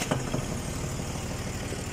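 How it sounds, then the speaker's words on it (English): A tractor engine starts up and settles into a steady, close, rumbling idle with a regular low chugging pulse throughout, no talking over it. "We'll start by switching on the tractor."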